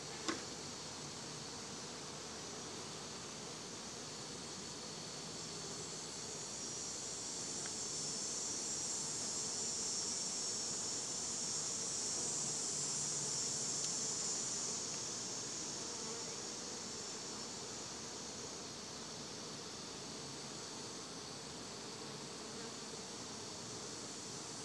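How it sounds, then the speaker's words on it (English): Steady, dense buzzing of many honey bees inside a hive during an inspection, a constant close hum that swells a little in the middle before settling back. "Quite a lot of bees in here."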